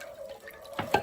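A short trickle of water splashes into a pan for spicy potato soup, with a faint tone underneath and a brief louder splash near the end.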